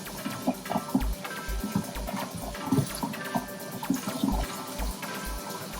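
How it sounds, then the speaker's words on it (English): Dirty aquarium filter sponges are rinsed under running water, giving a steady splashing, gurgling wash with repeated squelches as the foam is squeezed, close by and fairly loud, with no talking. "So, these are really dirty. So they need a good rinsing."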